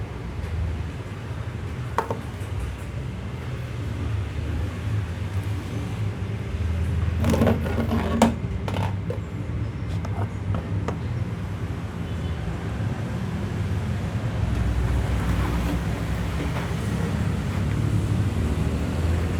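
Air hissing steadily out of the capillary tube of a refrigerator compressor, on a single-door fridge, as a continuous broadband rush that holds at an even level for the whole stretch with no talk over it.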